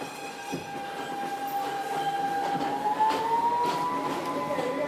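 A Siemens R160 subway train rumbles steadily along the tracks, with a rising metallic squeal of wheels and a constant close, loud roar throughout.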